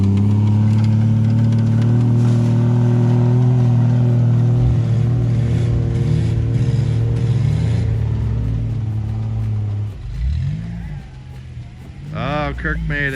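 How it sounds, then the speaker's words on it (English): An off-road vehicle's engine drones loud and steady in sand, holding high revs against the rev limiter. It fades toward the end as people talk and shout over it. "Rev limiter action."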